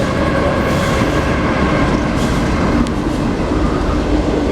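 Norfolk Southern freight train passing close by, a loud continuous rumble and roar of wheels on rail with a steady clatter and faint metallic squeal throughout, with no voices.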